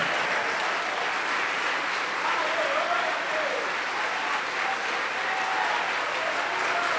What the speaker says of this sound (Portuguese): Vamos aplaudir muito,